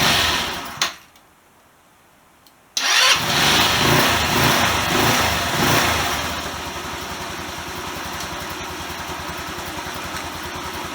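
A GY6 Chinese scooter engine cranks with a short burst, falls silent for a moment, then catches and fires into a loud, steady idle that settles slightly quieter near the end.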